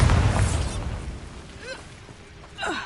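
A Bombarda blast spell detonates in Hogwarts Legacy, a loud booming explosion at the start that decays over a second, followed by scattered fainter pops and bursts.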